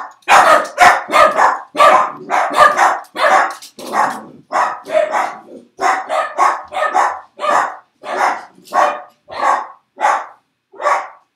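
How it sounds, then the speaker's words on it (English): Several dogs bark loudly and rapidly at a mailman after a doorbell, in quick bursts, close by, with short pauses between volleys. "Dogs were greeting the mailman."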